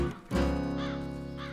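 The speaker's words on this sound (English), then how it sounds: "Keep those crows away from the garden." Cartoon crows near a garden scarecrow give loud, close caws, two hoarse calls over a sustained tonal music bed.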